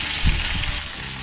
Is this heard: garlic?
yes